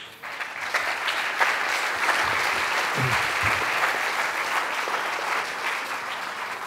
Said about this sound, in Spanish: Le damos un fuerte aplauso a Gabriel Machado.